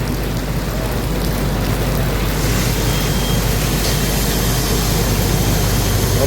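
Heavy monsoon rain around a truck on the road to Nashik, Maharashtra, a dense continuous roar of loud, steady downpour with no talking.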